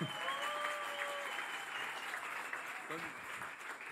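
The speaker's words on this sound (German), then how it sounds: "Einen großen Applaus nochmal für Mayanko." A crowd gives a band sustained applause at a band contest finale, a steady wash of clapping with a faint voice heard briefly over it near the start.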